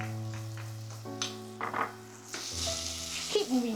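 Sour potato strips stir-fried with vinegar and pepper, crisp sizzling with quick tossing and spatula scrapes, a louder hiss swelling near the end.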